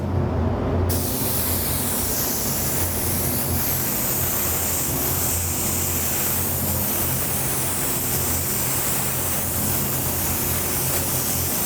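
A spray gun lays down a coat of candy green paint, a loud, continuous close hiss holding steady for the whole stretch with no talking.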